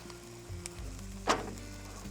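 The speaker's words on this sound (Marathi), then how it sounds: "बटर लावूया पाववर पण. दुसरा ब्रेड पण टाकूया." Pav bread fries in butter on a pan with a quiet, crackling sizzle, broken by a brief scrape or stir partway through.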